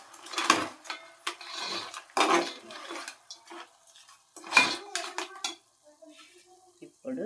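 A spoon clinks and scrapes around a pot while turmeric, salt and garam masala are stirred in for peethala pulusu, crab tamarind curry. Several bursts of metallic stirring come with quieter pauses and a faint sizzle beneath.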